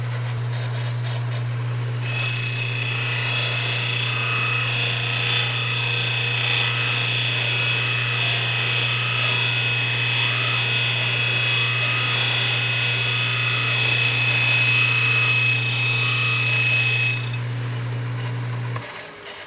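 A taper tool shapes the point of a bamboo arrow shaft, a steady whirring hum with a high tonal whine, holding continuously for about fifteen seconds, close and alone.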